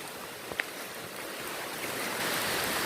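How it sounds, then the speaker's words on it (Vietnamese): A forest stream swollen by flood-season rain, rushing in a steady, broad wash of water noise that holds evenly throughout. "Đây là một cái suối."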